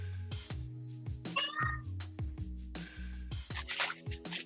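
Several cats meow again and again at close range, with insistent overlapping cries that come in a quick, uneven rhythm. One cat gives a higher, warbling call partway through, and a soft voice can be heard in the background.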